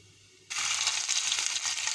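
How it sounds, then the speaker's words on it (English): Ginger and garlic hit hot oil in a karahi with a sudden loud sizzle that continues as a steady, crackling fry. "Now after a few seconds I am adding ginger garlic."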